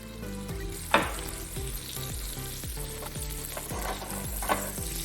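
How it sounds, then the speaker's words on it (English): Butter and olive oil melt and sizzle in a pot for chicken noodle soup, a steady close frying crackle with a few sharp pops and bursts rising over it. "Soon as our butter completely melts and starts to foam like it's doing here."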